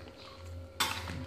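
A spoon stirs a pot of boiling duck stew with andaliman pepper and citrus leaves, one clear metallic scrape against the pot over a low steady simmering hum.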